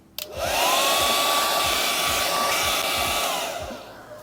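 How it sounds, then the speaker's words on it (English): A hair dryer clicks on and blows with a loud, steady whoosh and whine for a few seconds, then starts winding down. "I'm going to take and use the blow dryer now"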